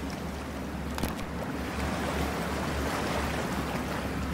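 Underwater ambience while diving in cold water in Cyberpunk 2077, a steady dense wash of rushing, bubbling water with a low rumble that grows slightly louder partway through and continues without pause.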